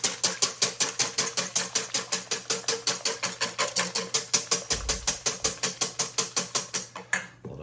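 A wire whisk beats one cup of plain, unsweetened cream by hand in a bowl, making fast, even rhythmic clicks and taps that keep going for several seconds and then stop abruptly. No one speaks.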